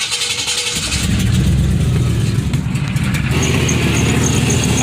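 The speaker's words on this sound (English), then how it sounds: "here is a cold start of the stock intake box" A car engine with its stock intake box cold starts: a brief crank catches and settles into a steady, fairly quiet rumbling idle, heard up close with no talk.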